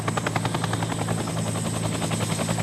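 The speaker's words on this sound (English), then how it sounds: "The 212 Bell helicopters no longer operate as a flying ambulance for the local population." A Bell 212 helicopter's rotor thumps in a fast, steady beat under a loud engine whine, continuous and close throughout.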